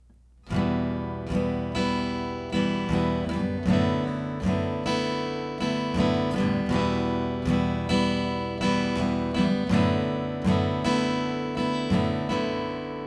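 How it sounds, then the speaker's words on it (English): Guitar chords strummed in a lively pattern mixing down and up strokes, bright and rhythmic, played close and alone for several bars. "Now the next stage for your strum would be to combine those ups and downs"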